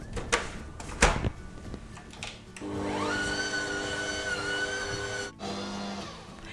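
A stand mixer kneads cookie dough of sugar, baking powder, flour and margarine, starting after a few knocks and clatters into a steady motor whine that runs for about three seconds, cuts briefly, then resumes, close up.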